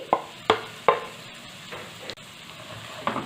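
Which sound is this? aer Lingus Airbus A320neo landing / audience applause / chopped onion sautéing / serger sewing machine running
chopped onion sautéing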